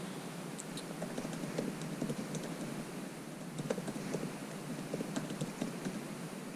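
Continuous soft clicking of keys being typed on a computer keyboard, steady and fairly close, over a constant background hiss with no talking.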